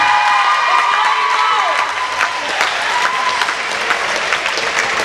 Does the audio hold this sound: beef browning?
no